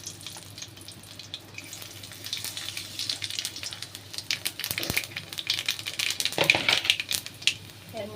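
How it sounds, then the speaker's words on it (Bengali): Dry red chilies and nigella seeds crackle and sizzle in hot oil in a kitchen, a steady close frying hiss with scattered sharp pops that grow busier toward the end. "এবার এই তেলের মধ্যেই আমি শুকনো লঙ্কা আর কালো জিরে ফোড়ন দেব।"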